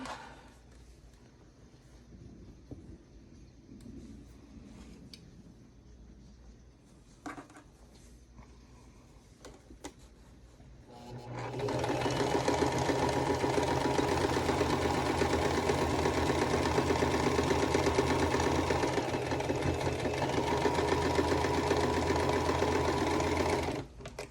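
A sewing machine stitching rows of a quilt block together: quiet handling and small clicks at first, then a loud, steady, whirring run of stitching that continues without pause for over ten seconds.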